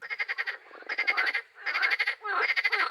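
Rapid pulsing frog croaks in four bursts, each a quick rattling series of calls, loud and close with short pauses between.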